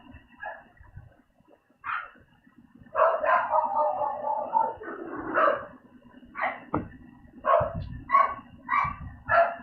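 A dog yips and barks in repeated short, high bursts, with one longer whining stretch, fairly close in a quiet indoor room.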